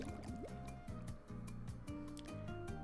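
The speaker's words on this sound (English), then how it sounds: "Okay, Joe, bath time" Water sloshes and splashes in a bathtub, with small gurgling, dripping movements repeating in quick bursts, close and fairly quiet.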